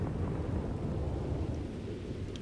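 Rain and rumbling thunder heard from inside a building in the video game Starfield, a dense low roar of rainfall with deep thunder rolling underneath, continuous and steady with no voices.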